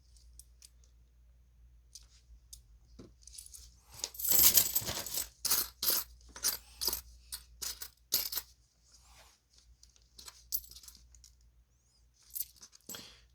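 Korean ten-won coins clink and drop one after another while a coin roll is sorted, a run of sharp bright metallic taps and jingles close up, with no talking.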